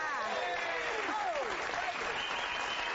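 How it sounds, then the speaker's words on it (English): Television crowd cheering and applauding during a Fox News broadcast, a steady dense roar of many voices with whistles and shouts running throughout at moderate level. "People cheering on the news."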